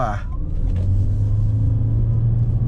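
A Toyota Corolla Cross Hybrid pulls away from a standstill on a real road, heard from inside the cabin as a steady, close, low engine and road rumble that stays even throughout.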